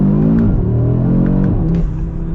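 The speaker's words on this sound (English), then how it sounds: "It's pretty crazy the rate of acceleration that this thing has." A 2023 Audi RS3 accelerates hard, its engine note rising in pitch through the revs with a brief dip around a gear change before climbing again, close and loud, with no talking.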